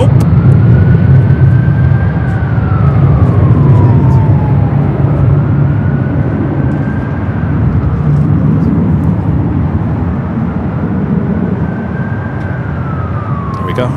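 A Delta jet, flight 8087, takes off from LAX with an early rotation, a loud, close engine roar carrying a whining tone that repeatedly rises and falls.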